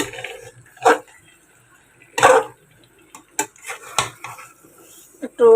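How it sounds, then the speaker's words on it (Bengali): Roasted chicken leg pieces being stirred in a pot in a home kitchen: a few sharp clanks and scrapes of utensil on metal, separated by quiet pauses. "এটাকে আলতোভাবে একটু নেড়ে চেড়ে রোস্টটা আমি একটু রান্না করবো"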